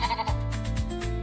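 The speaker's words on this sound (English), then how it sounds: "I see some fluffy sheep." Sheep on a farm bleat in quick wavering calls, several short cries in a row, loud and close.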